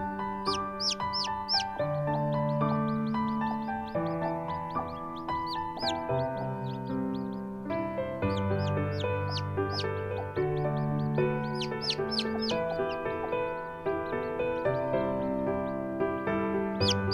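Newly hatched, colourful chicks cheep in a dense, continuous chorus of high, rapid chirps, while a hen clucks and murmurs lower beneath them, close and fairly loud throughout.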